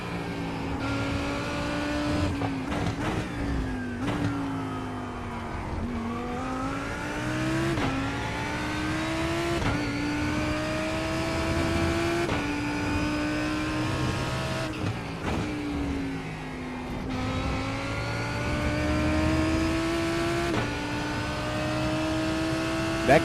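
Race car engine in the iRacing sim racing game drones steadily for over twenty seconds, pitch climbing and dropping through gear shifts with brief dips, loud and continuous with no talking.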